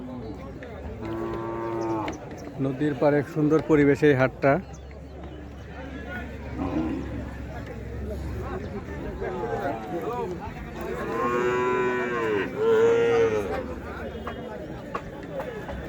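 Cattle at a riverside cattle market lowing in several long, loud moos, some close, with someone talking over the herd and general market bustle behind.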